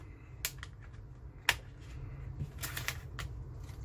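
A plastic card slid along the seam to pry open the case of a Dell 7390 2-in-1 laptop, giving sharp plastic snaps and clicks, one louder pop, and scraping in between, close and moderately quiet with no talk.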